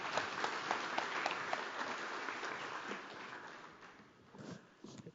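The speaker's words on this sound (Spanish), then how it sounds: "Damos un aplauso, por favor." Audience at an energy forum expert panel applauding a speaker, dense clapping at moderate level that gradually fades toward the end.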